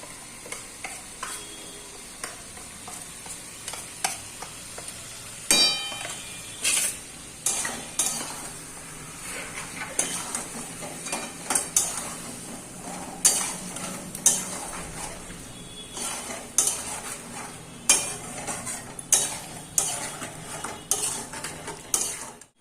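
Onion-garlic paste, chilli paste and cumin powder sautéing in a pan at home, a low sizzle under repeated metal spoon scrapes and clinks against the pan, irregular and close.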